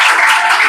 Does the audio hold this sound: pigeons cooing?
no